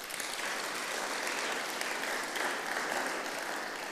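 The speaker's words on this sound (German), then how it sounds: "ein bisschen Vorschusslorbeeren als Applaus dann" Steady, dense applause from an audience welcoming a panel discussion at a German talk event on the 1972 Olympics, sustained at an even level for the full stretch with no voices on top.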